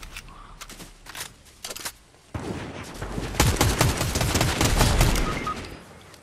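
Gunfire in a video game, a sniper among the shooters: sharp shots cracking in bursts, sparse at first and then a dense, loud volley of rapid reports.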